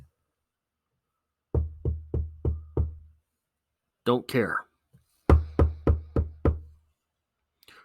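Knuckles rap on a door in two separate sets of five even knocks, loud and close, and a voice speaks briefly between the sets.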